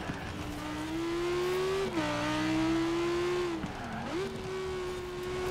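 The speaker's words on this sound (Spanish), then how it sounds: "mi carro está derrapando mucho" An Audi R8 or Lamborghini Huracán sports car in a racing video game skids with a sustained tire squeal over its steady engine drone, the pitch dipping and rising as it slides, loud and unbroken with no talk.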